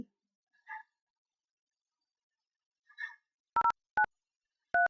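A softphone keypad during a VoIP call transfer gives short, separate DTMF beeps near the end, with a few faint soft blips before them in otherwise quiet surroundings.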